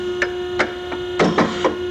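A hydraulic clamp tube swagger starts its cycle: a steady machine hum runs throughout, broken by several light clunks and clicks as the clamp closes and the tube stop moves aside.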